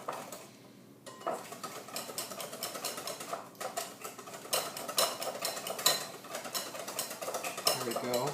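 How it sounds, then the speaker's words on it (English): All-purpose flour whisked into a lemony pie filling for a chocolate blueberry pie: quick, busy rhythmic clicking and scraping of a whisk against a bowl, close and continuous. "we're just going to whisk this in"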